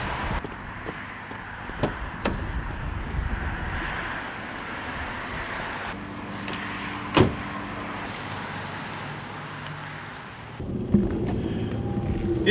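Ford ST220 car interior as it sets off, a steady low engine and road rumble with a few clicks and knocks, a brief jangle of keys, and a louder thump near the end.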